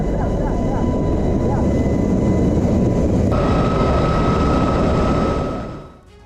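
Military helicopter in an Israeli army aerial rescue operation, a loud continuous engine and rotor drone that holds steady, then tails off at the end.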